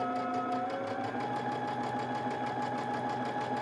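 A sewing machine stitches a scalloped hem, its needle hammering in a fast, even rhythm with a steady motor hum, close and continuous with no pauses.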